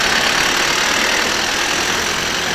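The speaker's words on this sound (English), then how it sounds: "Here, let's listen to the frog face a bit." Idling engine of a 'frog face' city bus on a Brighton street, a steady loud low rumble and hum with a noisy broadband wash, continuous and close throughout with no talking.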